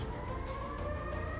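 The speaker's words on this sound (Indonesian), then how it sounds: "Malam itu suara sirene menggema keras" A wartime siren in Tel Aviv at night wails steadily and fairly loud, its tone holding over a constant low rumble of traffic.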